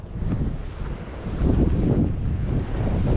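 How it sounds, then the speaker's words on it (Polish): Powerful Atlantic waves crash against the rocky Reykjanes coast in Iceland, a loud, continuous roar of surf heavily mixed with gusting wind buffeting the microphone, surging stronger halfway through. "Niesamowite są te fale. Przepiękne, jaka siła, jaka potęga jest w oceanie, zobaczcie."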